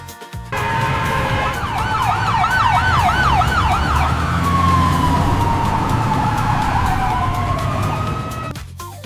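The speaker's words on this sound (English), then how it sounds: "An ambulance." A loud ambulance siren wails nearby, first in rapid warbling cycles, then a long sweeping tone, over low traffic rumble.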